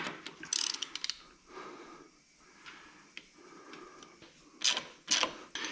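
A ratchet wrench turns a nut off a Ford 960 tractor, quiet quick bursts of metallic clicking in short runs with pauses between, the clicks crisp and close.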